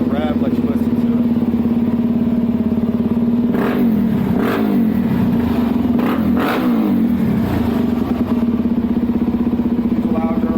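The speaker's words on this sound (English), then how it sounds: "let me go ahead and give you guys a rev, let you listen to it." A motorcycle engine idles with a loud, steady throb, then throttle blips send it revving up and down several times before it settles back to idle, close to the listener.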